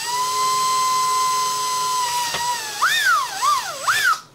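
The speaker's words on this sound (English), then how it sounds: "I think I'll break out the Dremel and just go to town and see what happens" A Dremel rotary tool whines at a high steady pitch as it cuts into the plastic of a NES-101 Nintendo top-loader console, then the tone bends and wobbles under load before spinning down; close and alone.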